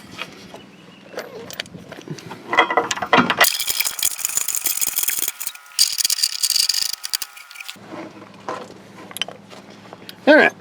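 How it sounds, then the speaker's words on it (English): A ratchet tightens bolts while installing a trailer hitch on a Honda Odyssey, with bursts of dense metallic clicking between quieter stretches of handling and clinks, close and fairly loud. "Once everything is pretty snug, we can go ahead and start tightening all our bolts up."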